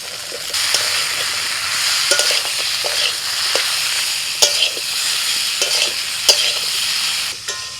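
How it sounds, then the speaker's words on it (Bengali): Ridge gourd and potato pieces fry in spices, giving a loud, steady sizzle broken by repeated scraping and clattering strokes of a spatula as the mixture is stirred. "ঝিঙে আলু সব ভালো করে মশলার সাথে কষিয়ে নিয়েছি"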